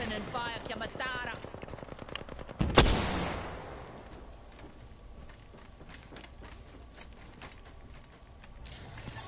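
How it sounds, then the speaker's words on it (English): Gunfire in the shooter game Apex Legends: a sharp loud shot around the third second, surrounded by rapid clicking and rattling game effects and ambient noise, with a steady faint background after. "Open and fire, Yamatara."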